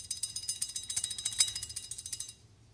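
A loose rear disc brake on a bicycle rattles in a fast, regular ticking run for about two seconds, close and fairly loud, then stops abruptly.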